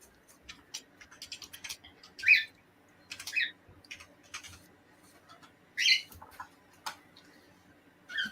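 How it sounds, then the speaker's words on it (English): Cockatiels and a green-cheeked conure call indoors in a quiet room, with a few sharp, shrill chirps and squawks standing out over soft ticking and small clicks, fairly faint and intermittent. "Do you hear parrots? You hear cockatiels"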